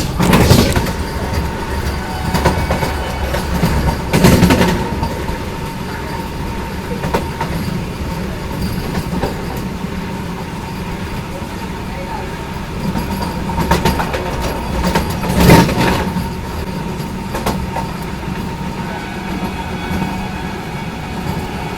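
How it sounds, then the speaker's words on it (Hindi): A Jodhpur Vande Bharat Express speeds through a junction station without stopping, giving a loud, steady rolling rumble with sharper bursts of clatter and rattle now and then. "अभी अपनी ट्रेन स्किप कर रही है बंदी कोई जंक्शन रेलवे स्टेशन"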